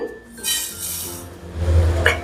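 Metal spoon and pan clinks as warmed spices are scraped from a pan onto a plate in a home kitchen while making turmeric pickle, a few sharp close knocks and scrapes with no talking.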